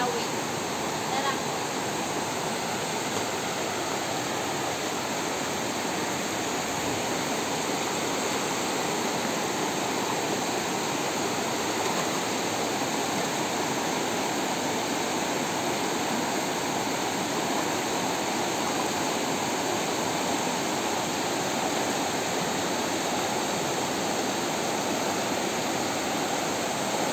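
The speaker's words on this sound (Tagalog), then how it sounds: "kung makikita itong sobrang laki na ating ilog" A very large river flows in the mountains, giving a steady, dense rushing roar that stays constant and fairly loud throughout, with no voices.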